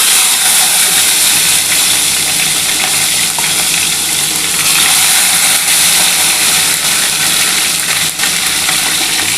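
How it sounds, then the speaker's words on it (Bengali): Pieces of snakehead fish fry in hot oil for a Bengali chilli fish dish, giving a steady, loud, dense sizzle and crackle that runs unbroken from start to finish with no talking. "বন্ধুরা দেখো তেলটা গরম হয়ে গেছে। এবার আমি কিন্তু শোল মাছটা একটু ভেজে নিচ্ছি"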